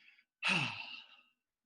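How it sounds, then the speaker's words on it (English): Ujjayi breathing through the nose: a brief faint breath, then one long audible exhale that rises sharply and fades over about a second in quiet surroundings. "we're only breathing through our nose, and I'm just putting emphasis on it so we can hear it"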